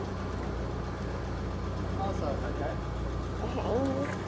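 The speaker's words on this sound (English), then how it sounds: "I'll let it run for a sec before I rev it." Idling BMW E36 engine, a steady low rumble that holds evenly throughout, with voices talking over it.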